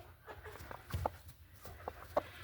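Soft, scattered clucks from hens, a few short calls over quiet background rustle.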